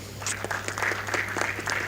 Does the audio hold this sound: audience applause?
yes